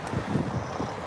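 Steady low rumbling wind buffets an outdoor microphone on a windy day outside a Holiday Inn Express in Castle Bromwich, Birmingham, a continuous muffled roar with no speech.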